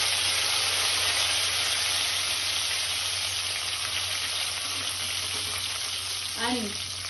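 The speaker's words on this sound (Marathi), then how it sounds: "थोडीशी कडीपत्त्याची पानं मी कापून घेतलेली आहेत ती घालत आहोत" Chopped curry leaves dropped into hot oil already holding cumin, a loud steady close sizzle and crackle of frying that carries unbroken throughout.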